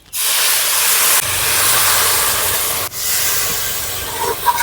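Milk pours into a hot pan of semolina fried in ghee, giving a loud, steady sizzling hiss that keeps going for several seconds with a brief dip partway through and a soft low bubbling underneath.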